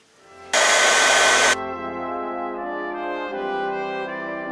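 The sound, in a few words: heat tool heating embossing powder on card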